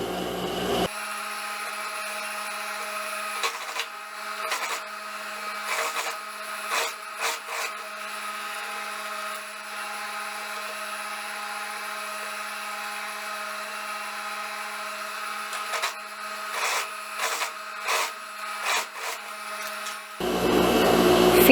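Sewing machine topstitching close to the edge around the armhole of a lined long wrap dress, running as a steady mechanical whir for most of the stretch with brief stops and restarts, near and alone with no talk.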